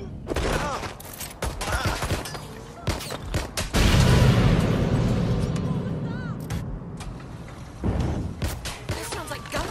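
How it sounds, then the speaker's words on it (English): Rapid bursts of gunfire in the video game Watch Dogs Legion crack and boom repeatedly, with a long rolling blast in the middle, loud and close, layered with game-like effects and occasional voices. "That sounds like gunfire."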